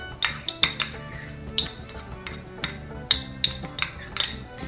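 A spoon scrapes and clinks against a bowl while thick, barely melted garlic butter is stirred, giving a run of light, uneven metallic taps and scrapes close by, with no talking.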